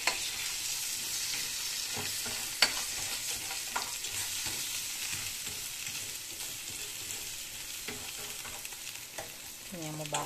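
Egg sets in a pan over a low flame with a quiet, continuous sizzle, broken by occasional scraping strokes and clicks of a utensil stirring against the pan.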